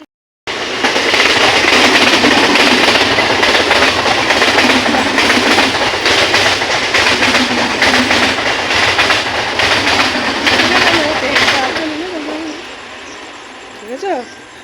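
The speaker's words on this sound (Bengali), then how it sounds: "পাঁচ মিনিটের মধ্যে দুইখানা ট্রেন গেল" A train rumbles past nearby, a loud continuous roar with rhythmic clickety-clack from the wheels that fades away toward the end, leaving faint bird calls in the quiet that follows.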